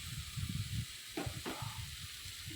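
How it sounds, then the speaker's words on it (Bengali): Brinjal slices fry in a pan with a steady bright sizzle, broken by two quick stirring scrapes midway, close and moderately loud with no talking. "ভালো করে ভেজে নিই"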